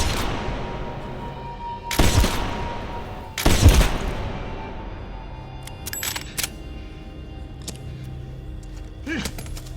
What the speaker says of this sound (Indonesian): Jeff yang dengan bagongnya menembak Chen hingga amunisi yang dimilikinya habis tak tersisa.